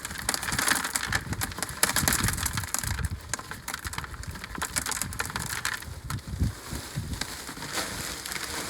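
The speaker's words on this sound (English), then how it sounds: "So we're going to put about 2 inches of gravel." Gravel poured into a container garden pot, a rough rattling crunch of stones that comes in uneven bursts and clatters, close and fairly loud, with no voices.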